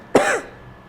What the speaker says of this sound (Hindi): आज बहुत खांसी आ रही है दोस्तों।